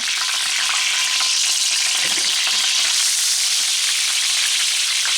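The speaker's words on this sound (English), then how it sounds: "Let's try to flip this salmon as carefully as possible." Salmon sizzling loudly in a hot pan right after being flipped for a sous vide finish, a dense, close, steady crackle and spit with no talking.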